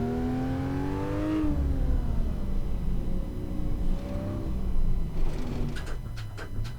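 Porsche 911 R in Assetto Corsa cruising in second gear, its engine droning steadily with the pitch rising, dropping, then easing up again, followed by a few quick clicks near the end; no voices.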